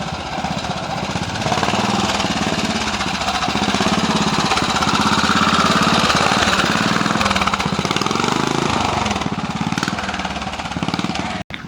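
A vintage rigid-frame Ariel motorcycle engine runs close by, a loud rapid thumping beat with a rough mechanical clatter, holding steady for several seconds before cutting off abruptly at the end.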